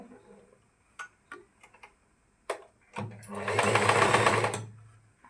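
Sewing machine stitching down the folded edge of an underskirt: a few sharp isolated clicks and taps, then a loud, steady close-up whirring run of stitching for about two seconds that fades out.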